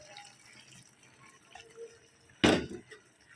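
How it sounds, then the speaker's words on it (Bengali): Water poured into a pot of curry on the stove, a short close splash that swells and fades within a second, following a stretch of faint kitchen background noise. "জল দিয়ে দিই।"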